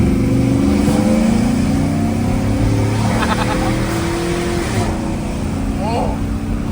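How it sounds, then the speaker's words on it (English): A GMC Silverado V8 fitted with long tube headers idles and revs with a deep, rumbling burble, close and steady, while people talk over it. "Sounds like a good V8."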